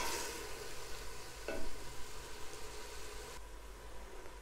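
Vegetables sizzle and crackle steadily in a hot pan while being stirred, a close, continuous frying hiss with a low hum underneath.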